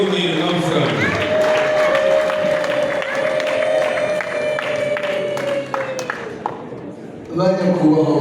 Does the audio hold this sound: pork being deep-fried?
no